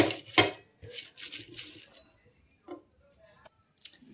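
Hot roasted green chillies are crushed into thecha in a metal vessel, giving sharp scraping and clinking knocks in uneven bursts, close up and followed by a few sparse taps.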